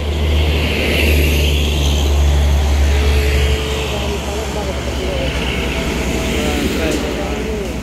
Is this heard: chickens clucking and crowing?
no